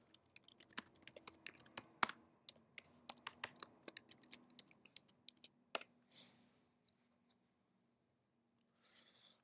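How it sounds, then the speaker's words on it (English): Someone types a command on a computer keyboard, a quick uneven run of close, crisp keystroke clicks that ends in a final keypress, followed by near silence. "just type in the command"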